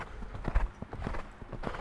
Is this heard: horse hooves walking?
yes